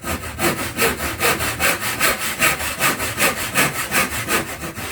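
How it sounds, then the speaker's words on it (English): A hand saw cuts a series of closely spaced kerfs into wood for a cross half lap joint, making loud, steady rhythmic back-and-forth rasping strokes, about four per second, close by with no talking. "we're going to then cut a lot of lines in here. Every 2 to 3 mil,"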